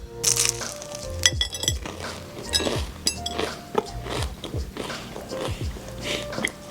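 A crunchy almond croissant dusted with powdered sugar being bitten into and chewed up close, with repeated crackly crunches over several seconds and no talking.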